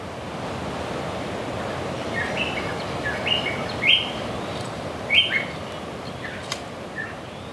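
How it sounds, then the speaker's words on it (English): Wattled honeyeater and shrillbill give short, bright chirps and calls in a Tonga forest, scattered and moderately near over a constant rushing wash of surf and wind. "That was one wattled honeyeater and a shrillbill."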